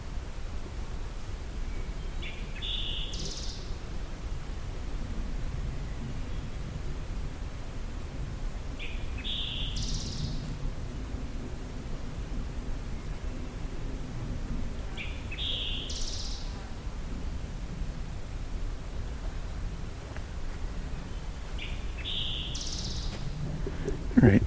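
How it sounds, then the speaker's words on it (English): A summer tanager singing in the woods at Hickory Creek: four short, high phrases spaced several seconds apart, moderately distant over a low, constant background hiss. "summer tanager."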